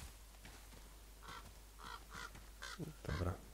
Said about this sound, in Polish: ten kruk, którego słyszę, trzeba go ustrzelić